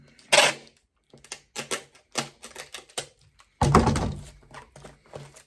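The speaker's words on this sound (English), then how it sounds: "what I want to do there is go ahead and put tape all around it" Packing tape torn from a roll and pressed around the seam of a package holding an iPad, heard as bursts of loud ripping and rasping in close uneven strokes, with no one talking.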